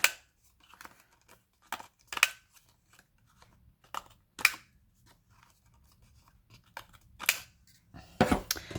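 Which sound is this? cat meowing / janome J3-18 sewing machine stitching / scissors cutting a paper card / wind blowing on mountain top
scissors cutting a paper card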